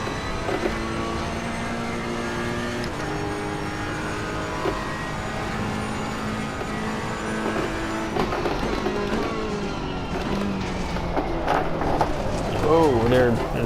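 A GT3 race car in the racing game Assetto Corsa Competizione revs loudly and steadily with rising and falling engine tones through gear changes, tyre squeal near the end, while someone talks over it.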